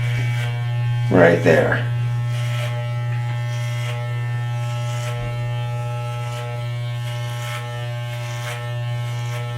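Electric hair clippers hum steadily and close while cutting hair at home, a constant low buzz with brief changes as they move through hair, and a short spoken phrase early on.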